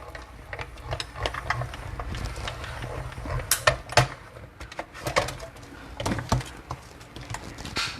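A crafting die-cutting machine is cranked during a card-making session, giving irregular ratcheting, clicking mechanical sounds with patters and knocks, close and moderately loud.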